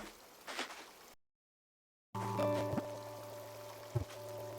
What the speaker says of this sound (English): That is my under the sink water filter